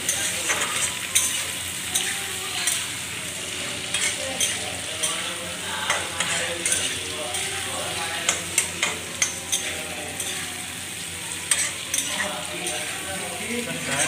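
Chicken frying in hot oil in a kadai, a steady loud sizzle with repeated scraping and clinking strokes of a spatula stirring the pieces, close up throughout.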